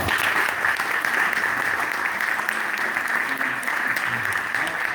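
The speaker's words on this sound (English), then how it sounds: "let's give Garry a round of applause." Audience applause at a Comal Conservation community presentation on the Great Springs Project, steady and dense for the full stretch, a crowd clapping together at moderate distance with no talk over it.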